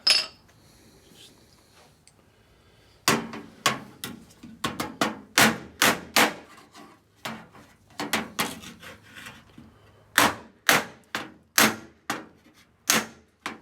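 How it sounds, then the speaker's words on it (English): Hammers bang on the wing of an MG TF1500 car in a workshop: after a quiet opening, a long run of sharp, loud, close metallic strikes comes in irregular bursts, some quick and clustered, some spaced apart. "You whack one and then I'll try to do it. Oh, you got a square. You got the real hammers."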